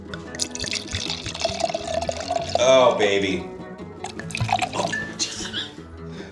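Red wine, a blend including Cabernet Sauvignon, Petit Verdot, Gamay Noir and Pinot Noir, pours into a glass with a steady liquid gurgle and splash, while people talk and exclaim over it.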